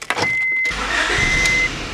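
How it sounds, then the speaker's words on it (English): A car engine is started and left to idle while the air is bled from its cooling system. A short mechanical burst gives way to a loud, steady running hum with a thin whine over it. "you want to get it in the car and start the engine and just let it idle"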